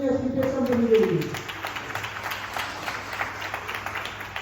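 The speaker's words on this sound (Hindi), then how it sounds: "मैं चाहूंगा एक बार जोरदार तालियां होनी चाहिए एसलीपीएस कंपनी के लिए" An audience applauds the SLPS company at a Topaz celebration. A brief voice opens the clip, then clapping rises into a steady, fairly loud wash that carries on to the end.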